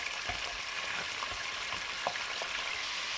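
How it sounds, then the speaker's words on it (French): Lamb pieces sear in hot oil in a casserole, giving a steady, close sizzle and crackle with a few soft stirring knocks throughout. "réchauffer l'huile et on va mettre les morceaux d'agneau dedans. On va le faire prendre de la couleur de tous les côtés"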